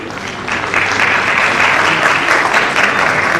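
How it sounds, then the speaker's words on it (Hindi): An audience applauds the actors of a stage play, "Gaj Foot Inch", brought onstage at the end of the show: dense, loud, continuous clapping from a full crowd that holds steady throughout. "और ये सब लोग तालियां ले हैं।"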